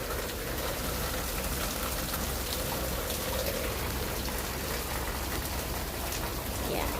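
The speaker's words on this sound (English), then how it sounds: "it's raining right now, and it actually is pouring" Heavy rain pours down steadily outdoors, a dense, even hiss of countless drops hitting surfaces, constant and moderately loud throughout with no voices.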